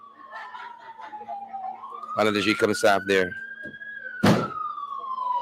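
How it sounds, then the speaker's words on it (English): A police vehicle siren wails in a steady rising and falling sweep at moderate distance in a confused street scene, with someone talking over it and a couple of sharp thunks like a door. "I do hear a police vehicle."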